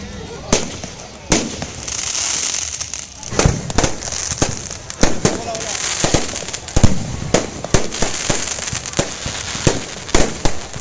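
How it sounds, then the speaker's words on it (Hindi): Firecrackers burst repeatedly at a Ravan Dahan fair in Dharamjaigarh, Chhattisgarh, with sharp irregular bangs and crackles over a murmuring crowd, some near and loud, others farther off. "चंद्रमा और इधर पटाखों की गूंज।"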